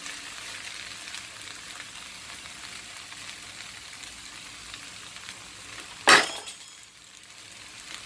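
Spinach and saag frying in a pan for a fish-head dish, a steady hiss throughout with one sharp clink of a utensil against the pan near the end, then the sizzle settles quieter.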